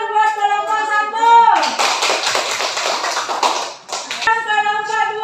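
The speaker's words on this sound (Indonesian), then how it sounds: "sekarang tepuk tangan buat kelompok 1" Children's voices in a classroom give way to a burst of group applause for a student group lasting a few seconds, then the voices return.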